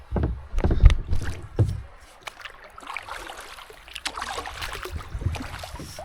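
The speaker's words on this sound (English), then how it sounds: "Some rapids here, little rapids." A canoe runs through small river rapids past logs in the water, with splashing and rushing water, a few heavier knocks and thumps early on, and steady churning flow close by throughout.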